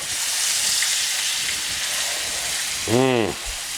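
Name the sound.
pork schnitzel searing in a pan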